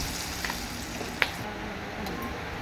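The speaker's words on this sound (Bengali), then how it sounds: "আমি এটা ফোড়নে দিয়ে দেব।" Cinnamon and cloves sizzling in hot oil as a tempering, a soft steady frying hiss with a couple of small sharp pops and crackles.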